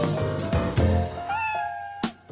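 A kitten meows in a musical montage, with a few rising, tonal calls over backing music and a short sharp sound near the end.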